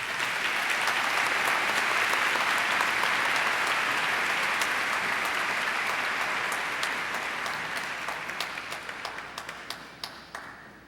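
A graduation audience claps for a student named Michelle, broad sustained applause that thins out toward the end, leaving scattered individual claps sounding clearly as it winds down.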